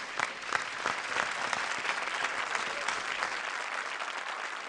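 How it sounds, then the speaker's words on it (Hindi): Studio audience at a televised Hindi comedy show breaking into loud, sustained applause, a dense wash of many hands clapping steadily for the full stretch with no break. "एक बार फिर जोरदार तालियां"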